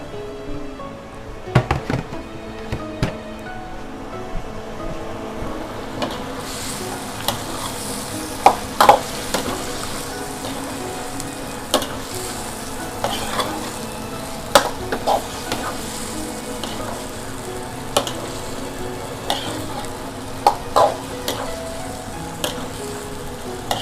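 Broccoli stir-fried in a hot pan, a steady sizzle running throughout while a utensil scrapes and clacks against the metal at irregular intervals, close and without speech.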